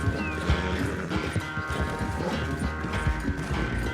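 A horse gallops in a race in a video game, with quick rhythmic hoofbeats thudding under a steady musical backdrop, continuous and close, no speech heard.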